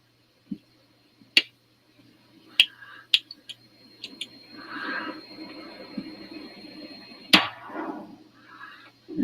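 Hammer being drawn back on a multi-barrel pepperbox pistol after the barrel is rotated: a series of sharp, close metallic clicks spread over several seconds, with quiet shuffling between them.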